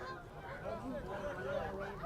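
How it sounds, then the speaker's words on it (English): A flock of geese honks while flying overhead during a high school football game, the calls rising and falling over a steady crowd and field din, with voices talking underneath. "As we see a flock of geese fly over our head."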